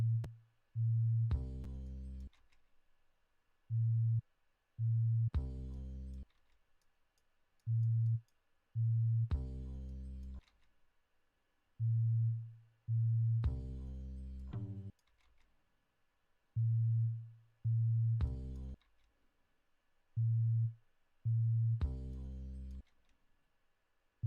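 A sine wave from a tone generator passes through a drum gate on acoustic drums, producing a repeated pattern of short low tone bursts that open and cut off abruptly with silent gaps between.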